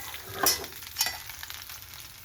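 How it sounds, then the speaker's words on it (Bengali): Soft, steady frying crackle of young jackfruit in oil with two brief scraping stirs, fairly quiet and close. "তেলের মধ্যে প্রথমে আমি ইঁচড়টাকে ভেজে নেব সুন্দর করে"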